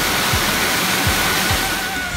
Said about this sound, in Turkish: Şelale buradan geliyor.